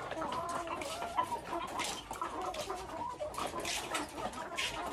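Chickens cluck steadily on a farm, with many overlapping clucks and calls at close to moderate distance and no talking.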